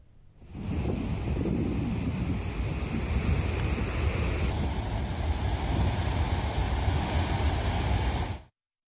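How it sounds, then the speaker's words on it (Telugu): Heavy Godavari flood water released downstream at the Kaleshwaram project, a loud, steady roar of rushing water with wind buffeting, continuous and unbroken until an abrupt stop. "వందల క్యూసెక్కుల నీటిని కిందకు వదులుతున్నారు దీంతో దిగువకు గోదావరి పరుగులు పెడుతోంది"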